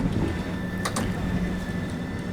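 Train interior in Train Sim World 2 on the East Coastway route while boarding, a steady loud rumbling hum with a constant tone and two brief sharp clanks near the middle, like doors or fittings.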